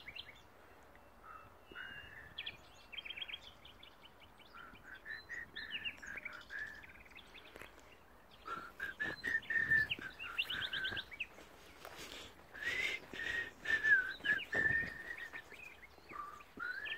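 Birds call and chirp steadily in a garden where collared doves live, a busy mix of tweets and calls at moderate distance, fairly faint, with no talking.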